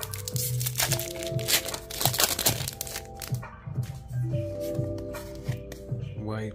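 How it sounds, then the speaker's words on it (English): Pokémon trading cards are shuffled by hand in quick bursts of riffling and flicking, with soft papery crackles repeating across the stretch while a person talks over them. "Let's shuffle them."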